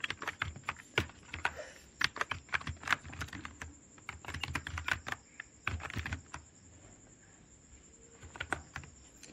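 Steady typing on a computer keyboard while CSS code is written, with rapid irregular clicks and short pauses throughout, close and fairly clear, with no talking.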